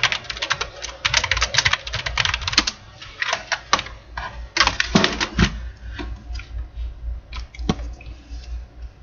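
Fingers type on a computer keyboard in an office setting, producing rapid, irregular clusters of sharp close clicks with short pauses between bursts and no voices.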